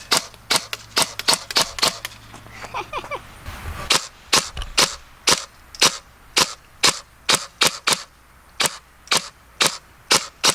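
G&G Cobalt Kinetics BAMF airsoft gun firing, sharp close cracks in a steady run of single shots, about one or two each second, with a brief pause and mechanical handling sounds near the start.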